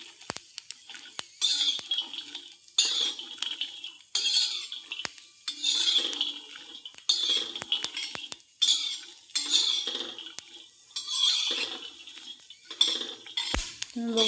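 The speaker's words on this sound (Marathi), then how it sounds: "पाच ते 7 मिनिट पर्यंत आपण याला असं छानपैकी परतवून घेणार आहोत" Fenugreek roasting in a pan as a metal spoon stirs and scrapes it, giving a close, busy run of clinks and scrapes in short repeated strokes.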